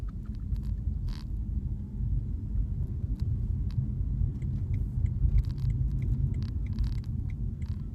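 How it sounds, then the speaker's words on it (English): Low, steady rumble of tires and light wind inside a moving 2014 BMW i3 electric car, an even drone with faint ticks above it and no speech. "all you hear is maybe the tires and a little bit of wind noise"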